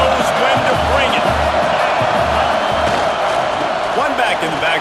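Stadium crowd at a Syracuse at Clemson college football game, a steady loud roar throughout with a commentator talking over it.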